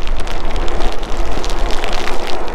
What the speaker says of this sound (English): In this torrential downpour,